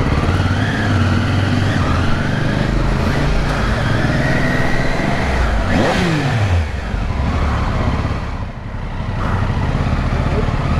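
A Royal Enfield Himalayan 450 motorcycle engine runs as it rides along a busy street, with passing traffic and a rising whine midway, loud and close throughout.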